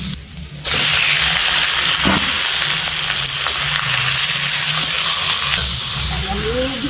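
Chicken pieces sauté with ginger in a hot pan for a Filipino chicken curry. A loud, steady sizzle sets in as the meat hits the oil and continues without a break.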